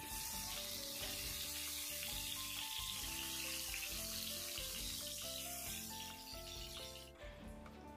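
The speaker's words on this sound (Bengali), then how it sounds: "গ্যাসের ফ্লেমটা মিডিয়ামে রেখে বেগুনের এক পাশটা ভেজে নেব।" Eggplant slices fry in oil in a pan over a medium gas flame, giving a steady, close sizzle. Background music plays throughout.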